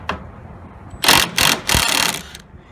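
An impact gun on the radiator bolts of a 2004 Cadillac Escalade 5.3 rattles loudly in three or four short bursts after a faint tap, with no talking.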